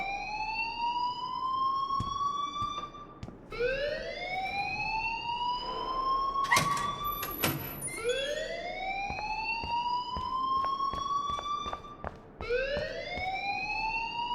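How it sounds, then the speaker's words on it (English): Fire alarm in the video game Life is Strange: a loud, repeating rising wail sweeping upward every few seconds, steady and continuous, with a few brief clicks and bursts layered in and no speech. "please turn off that alarm since that's your job"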